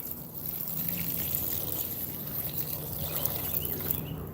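Water trickling and splashing steadily onto garden beds planted with beets, a continuous close hiss and patter with no talking.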